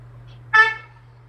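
A single car horn honk on a residential street, a brief harmonic blast of about a quarter second standing out over a steady low hum.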